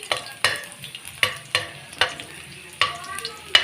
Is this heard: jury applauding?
no